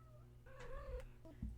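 A house cat makes noise indoors after dragging in her toy: a drawn-out, wavering meow near the mic, then a short lower chirp, with a steady low hum beneath.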